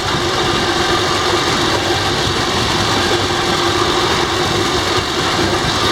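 A Tiger Shark straight shaft motor on a pedal-driven bike test rig spins at very high speed, giving a steady, loud, continuous whine and hum with constant vibration throughout.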